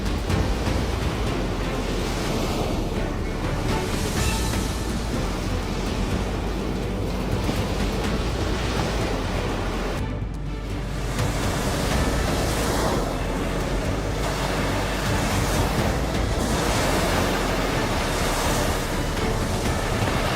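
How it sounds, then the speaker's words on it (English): Giant waves crashing around an offshore oil platform in a storm: a constant, heavy roar of surf and wind with repeated surges, loud and close, and no voices. "Giant waves are crashing around this offshore oil platform."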